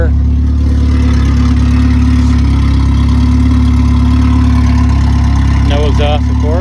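A 1983 Ford EXP, back after nearly 30 years off the road, idles with a steady, loud low rumble throughout, a faint higher whine riding on top near the end.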